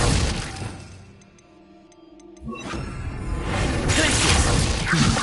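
Glacius ice spell cast in Hogwarts Legacy: a quiet lull with faint ringing chimes, then a sudden crackling, shattering burst that swells into a sustained icy rush of noise.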